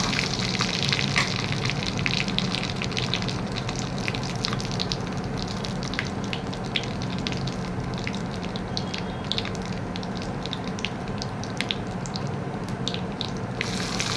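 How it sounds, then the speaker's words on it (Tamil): A steady, dense crackle and sizzle of mustard seeds, cumin and dried red chillies popping in hot oil, with sharp little pops scattered throughout, close and continuous. "எண்ணெய் சூடானதும் கடுகு, சீரகம், மிளகாய் வத்தல் சேர்த்து நல்லா பொரிய விடுங்க"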